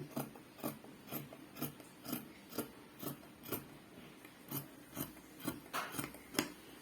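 Scissors cut fabric for a top-stitching sewing project, giving a steady train of crisp, close snips about every half second, with faint rasping in between and no talking.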